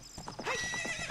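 A horse in Ocarina of Time gallops with rapid rhythmic hoofbeats and lets out a loud whinny over the game's background music.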